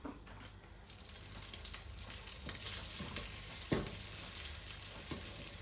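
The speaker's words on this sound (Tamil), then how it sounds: "இப்போ அடுத்ததை நான் சமைச்சு வச்சிருக்கிற சோறை இதுக்குள்ளே போட்டு கலக்க போகிறேன்" Cooked rice is stirred into a hot tempering in a pan for lemon rice, a soft steady sizzle with scraping spoon strokes and one sharper scrape midway, close by.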